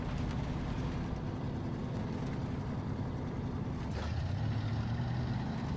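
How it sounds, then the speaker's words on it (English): Truck engine in the video game SnowRunner, a big throaty V6 rumbling at a steady low drone throughout, moderately loud and alone, with a slight shift in pitch near the end. "I love the sound of this engine. Big throaty"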